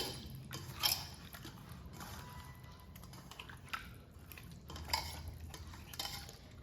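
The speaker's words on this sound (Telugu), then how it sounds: "ఇలా అన్ని ముక్కలు కలిసేటట్టు కలపాలి ఇలా కలుపుకోవాలి" Fish pieces being mixed with spices by hand in a bowl for a Telugu-style fish curry, with faint, soft clinks and scrapes at irregular intervals and quiet stretches between them.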